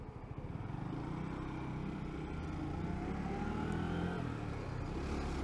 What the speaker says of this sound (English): The revs are kind of lagging as well on this bike